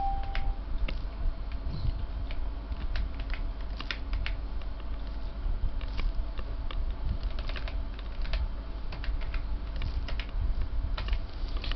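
Keys clatter steadily as a command is typed on a computer keyboard, close irregular clicks running throughout over a faint background hum.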